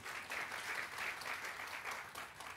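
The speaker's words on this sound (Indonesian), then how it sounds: "Tepuk tangan buat Tuhan Yesus saudara." An audience in a church breaks into steady applause, a continuous wash of many hands clapping at a fairly even level throughout, recorded quietly.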